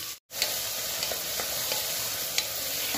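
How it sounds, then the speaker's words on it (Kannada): Three large onions frying in ghee with cinnamon, cloves, black pepper, cardamom, star anise and cumin, a steady close sizzle broken by occasional stirring scrapes. "3 ದೊಡ್ಡ ಸೈಜ್ ಉಳ್ಳಾಗಡ್ಡೆನ ಹಾಕೊಂಡಿದ್ದೀವಿ"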